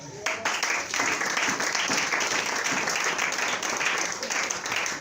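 Church congregation applauding together after a call to praise the Lord, a dense, steady wall of clapping that stays loud and continuous throughout with no pauses.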